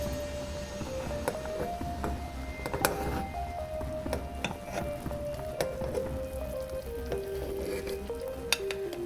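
Brown rice undrallu boil in a pot and are stirred, giving a soft bubbling simmer with scattered clinks of the spoon against the pot, close and steady, with no talking.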